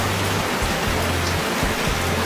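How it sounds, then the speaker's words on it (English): Steady rain pours down beside a porch in Louisiana in winter, a dense, even hiss of drops on surfaces close by, with a low hum running underneath and no voices. "it's raining a lot here in Louisiana during the winter"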